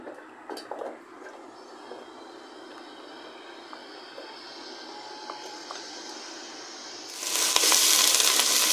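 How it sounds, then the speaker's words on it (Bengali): Chopped onions go into hot mustard oil for mutton dum biryani; a soft hiss and light clatter swell near the end into a loud, close, steady frying sizzle, with no talking. "তেল গরম হয়ে আসলে দিয়ে দিব 2টি পেঁয়াজ কুচি।"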